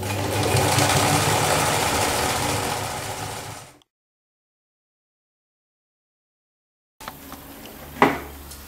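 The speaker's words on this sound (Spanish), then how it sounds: "Esto lo podéis hacer si queréis antes de empezar a coser a máquina" A sewing machine stitches a patch onto worn denim jeans, running in a steady close buzzing whir for several seconds before stopping, then a short burst of handling noise after a silent gap.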